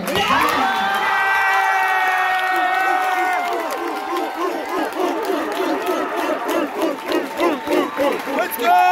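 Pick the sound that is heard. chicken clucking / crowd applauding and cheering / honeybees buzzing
crowd applauding and cheering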